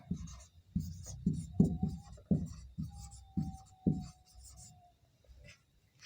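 Chalk or a marker scratches across a board as words are written, with a series of short, close strokes and taps in an irregular rhythm, some longer scraping drags, then quieter strokes toward the end. No one speaks.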